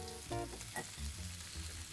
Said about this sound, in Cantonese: 飛咗水嘅蜆回鑊啦